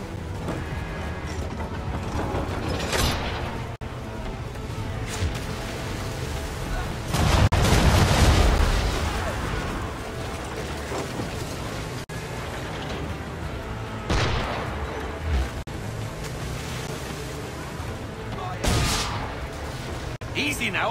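Ship cannons fire from a naval battle in Assassin's Creed III, loud booming blasts over constant roaring sea and battle noise, with a heavier volley partway through and a voice speaking over the din.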